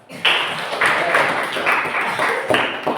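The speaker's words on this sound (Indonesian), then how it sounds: "kita angkat mereka dengan tepuk tangan" An indoor audience claps for a discussion group at a church gathering, a dense patter of hand claps swelling and falling in waves without speech.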